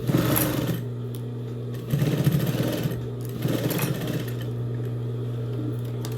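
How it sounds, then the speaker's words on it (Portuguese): A sewing machine stitches a fabric box-style pencil case in two loud whirring bursts of rapid mechanical chatter, separated by a brief lull and followed by a low steady hum. "E aí, você vem e costura novamente. Retrocesso no começo e no final."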